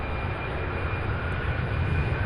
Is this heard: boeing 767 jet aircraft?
yes